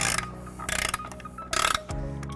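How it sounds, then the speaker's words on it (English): Ratchet with a 15mm socket tightening nuts while a trailer hitch is fitted to a 2019 Tesla Model S, several quick bursts of rapid metallic clicking separated by short pauses, close and clear. "We'll be using a 15mm socket."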